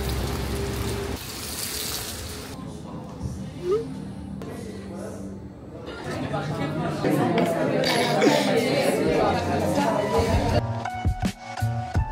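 Rain falls on a Paris street as a steady, broad hiss of drops hitting the pavement, with voices talking over it and a few clinks mixed in.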